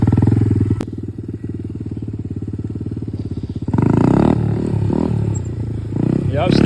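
Motorcycle engine revving and bogging during a circle wheelie, loud and close, with a steady throttle drone that surges and rises sharply partway through as the rider commits; a voice talks over it.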